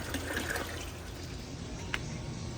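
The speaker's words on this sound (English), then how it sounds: "Now we're transferring the clean water into the Goldfish." A pump moves clean water into a goldfish pond with a steady, close rushing and trickling wash that runs unbroken and alone from start to finish.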